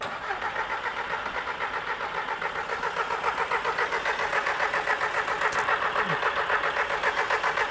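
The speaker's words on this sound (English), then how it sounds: "Okay, John, you want to crank it over?" A car engine cranks over on the starter in a steady, rapid, rhythmic chug that grows slightly louder, heard close up with no voices.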